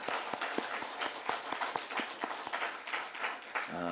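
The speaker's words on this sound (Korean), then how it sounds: "우리 하나님 은혜의 복을 주신 하나님께 우리 영광의 박수를." Church congregation applauding during a New Year Sunday worship service, a dense steady patter of many hands with a few sharper individual claps standing out, moderately close and continuous throughout.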